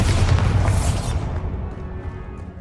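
Magic spell explosions from Confringo and Bombarda in the video game Hogwarts Legacy, heard as a loud rumbling blast that decays into a fading boom over a couple of seconds.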